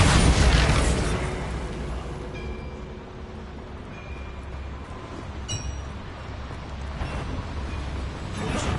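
A Bombarda blasting spell goes off in Hogwarts Legacy: a loud, close explosive burst at the start, then a long rumbling, crackling decay with scattered debris-like clatter.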